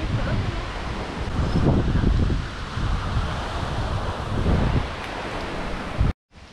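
Gusty wind near Aira Force waterfall in the Lake District buffets the microphone in rough, surging waves, loud and close, before cutting off abruptly at the end.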